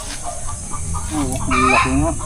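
Chickens clucking close by in a farmyard, several short cackling calls rising toward the end over steady background noise.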